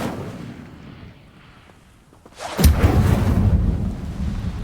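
An Incendio fire spell goes off in Hogwarts Legacy on PS5 with a sudden loud burst that swells into a sustained roaring rumble after a quieter stretch of low ambience.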